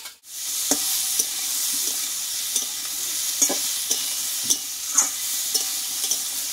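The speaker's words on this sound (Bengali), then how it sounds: "ধীরে ধীরে এইভাবে কষিয়ে নিতে হবে" Chopped ash gourd being stirred and sautéed in oil in a pan for a Bengali fish-head recipe, a soft continuous sizzle broken by sharp spoon scrapes and taps against the pan at irregular intervals, close and alone.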